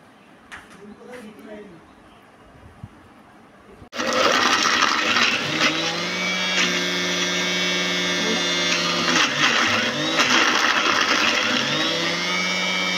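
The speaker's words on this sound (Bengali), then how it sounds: "মিক্সিতে এবার বেটে নিলাম" After a few quiet seconds with light handling noises, a mixer grinder loaded with fried ingredients for a jackfruit seed mash starts suddenly and whirs loudly and steadily at close range, its motor pitch shifting slightly as it blends.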